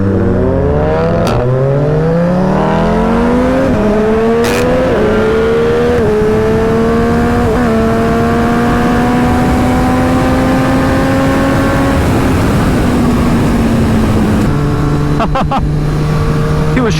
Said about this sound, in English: The triple engine on this thing is an absolute peach, and it sounds fantastic.